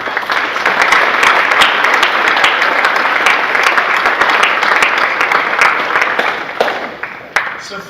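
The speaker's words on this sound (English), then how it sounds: "So just a quick round of applause to all the parents and families that support our" Sustained round of applause from a crowd of parents and families at a varsity athletic awards ceremony, dense and loud for several seconds before thinning out near the end.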